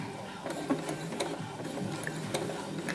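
A sewing machine running a straight stitch on a drawstring travel bag, with a steady mechanical whir and ticking needle rhythm heard close up for a few seconds.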